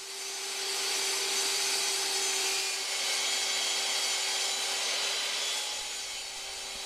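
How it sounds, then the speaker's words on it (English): Power saw cutting an offcut of MDF laminate, a loud sustained whining buzz with a steady pitched tone as the board is fed through the blade, close and continuous before easing off at the end. "I'm cutting the MDF laminate first."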